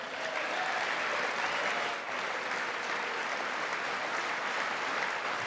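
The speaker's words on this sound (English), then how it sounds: "A lot of standing and applauding you'll see tonight" Audience at a State of the Union address applauding steadily and loudly throughout, a dense, sustained wash of clapping with a slight dip partway before swelling again.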